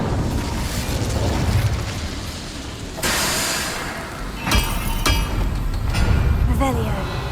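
An Incendio fire spell is cast in Hogwarts Legacy, heard as sudden whooshing bursts of flame with sharp crackling pops over rumbling game ambience, loud and close, with a voice speaking among the effects.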